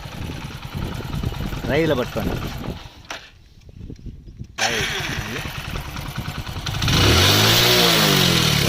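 A Hero Passion motorcycle engine starts and revs in bursts, loud and close, with voices talking over it at times and a brief quieter stretch midway.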